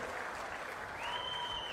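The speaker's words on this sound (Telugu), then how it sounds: "గట్టిగా చప్పట్లు కొట్టి అభినందించండి." An audience at an official meeting in Srikakulam applauds with steady, even clapping that stays fairly soft and distant throughout, with a faint tone rising briefly over it.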